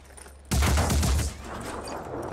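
Burst of rapid gunfire in the tactical video game Phoenix Point, loud and dense for under a second, then trailing off into a lower rumbling tail with no talk.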